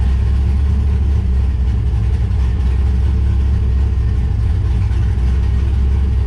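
A cammed LS V8 swapped into a 1969 Camaro idles slightly rich, giving a loud, steady, deep rumble that stays constant throughout with no talk.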